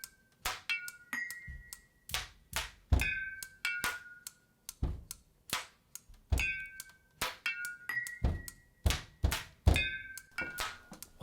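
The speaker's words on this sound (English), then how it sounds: "Now let's add a snare and a kick." Makeshift snare and kick drum built from household items, struck in a steady repeating beat: dull low thumps alternate with sharper clicky hits, with faint ringing tones between, close and fairly quiet, no talking.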